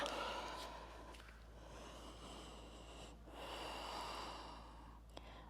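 Slow, steady breathing during a yoga downward dog pose, a long inhale followed by a longer exhale, soft and close, with no talking.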